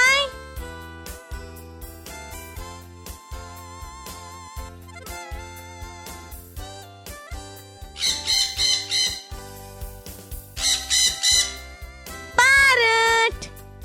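A parrot squawks in several loud, harsh bursts over a looping children's song with sung vocals.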